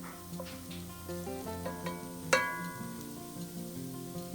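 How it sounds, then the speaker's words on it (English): Potatoes heating through in two tablespoons of butter in a pan, a soft quiet sizzle with faint scrapes and one sharp clink of a utensil partway through. "I'm going to go ahead and add in 2 tablespoons of butter and continue to heat this through."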